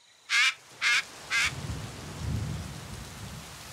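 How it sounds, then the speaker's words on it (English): Cartoon rainstorm for kids: three sharp, bright crackling bursts in quick succession, followed by a low rumbling roll of thunder over a soft, steady hiss of rain. "this rain is utterly unexpected"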